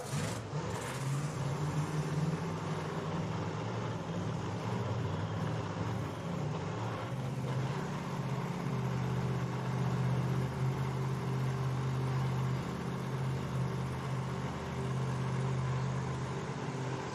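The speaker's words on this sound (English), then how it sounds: "The car does not look rowdy by any means as the supercharged machine of Moore here in the right lane burns out." A supercharged Pro 275 drag racing car burns out in the right lane at a drag strip, its engine roaring loud and steady for the whole stretch with a strong low rumble.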